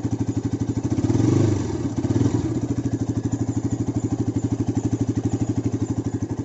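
Exhaust of a Bajaj Pulsar RS200 BS6 motorcycle, close by, with a steady pulsing idle and a couple of quick revs rising early on before settling back to an even throb.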